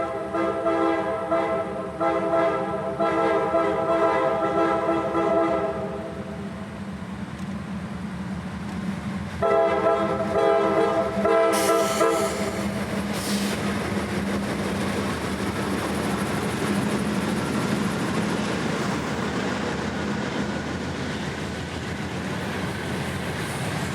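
Train 738 rolls past at Folkston, Georgia, sounding its horn in two long blasts. A continuous heavy rumble of rail cars runs underneath and goes on after the horn stops.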